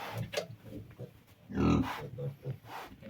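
A Vietnamese pot-bellied sow grunts protectively over her piglets in a pen, a burst of deep, rough grunts up close with a loud peak mid-clip, while someone talks softly around the calls.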